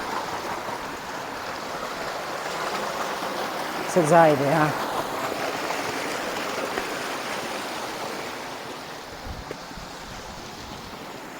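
Steady rush of flowing river water in rural Kunar, Afghanistan, a continuous outdoor wash heard throughout, with someone speaking briefly over it.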